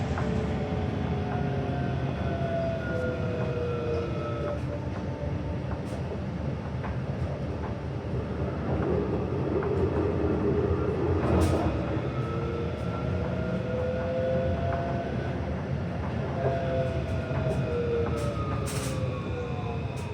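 Melbourne route 109 tram running on dedicated track, a steady rumbling rail roll with squealing wheel tones and rising and falling motor whine, heard from inside, continuous and moderately loud.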